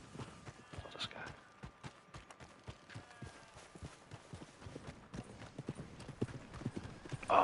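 Horse hooves clip-clopping at a gallop in the online western game Red Dead Online, a steady rapid run of thuds under ambient game sound, with a brief whinny and no talk.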